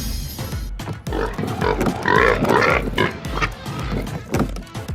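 A farm animal toy plays a recorded pig's grunts and snorts, a loud run of rough, repeated grunting that carries on for about five seconds.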